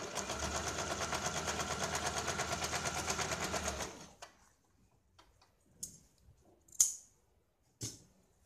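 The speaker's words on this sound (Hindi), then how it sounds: "यहाँ हम सीधी एक क्रॉस में सिलाई लगाते हैं।" A sewing machine stitches a blouse in a fast, even rhythmic whir for about four seconds, then stops. A few scattered faint clicks and ticks follow in near silence.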